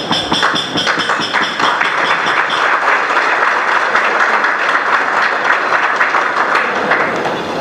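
An audience claps in a dense, loud burst of applause that holds steady for several seconds, with no voices over it.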